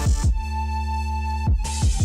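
Sustained synth melody entering the second drop of an electronic dance track, long held tonal notes over a deep bass, framed by punchy rhythmic hits at the start and end, loud and upfront with no voices.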